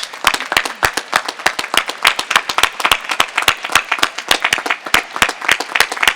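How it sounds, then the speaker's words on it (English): Audience applause for Ellen Boyer at the Sweet Briar College 2016 commencement, a steady run of dense, crisp handclaps lasting the whole stretch with no talk over it. "rise and give applause in support and in congratulations of Ellen Boyer for her tremendous support of Sweetbriar College"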